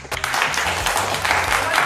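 Loud applause from a crowd at a Christmas family quiz game held in a store, dense and steady clapping over a low murmur of voices for the whole stretch.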